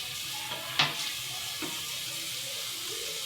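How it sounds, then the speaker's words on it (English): A kitchen tap runs steadily while a chopping board is rinsed. The water makes a continuous hiss, with a couple of brief clacks and splashes and no talking. "rinse the chopping board"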